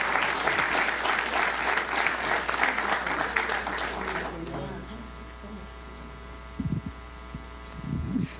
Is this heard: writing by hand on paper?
no